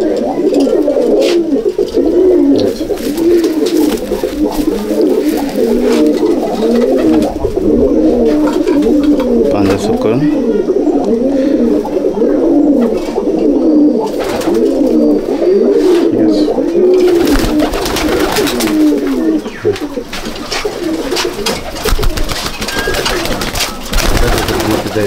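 Racing pigeons in a loft keep up a loud, continuous cooing chorus of low rolling calls from many birds, with brief speech and some handling noise over it.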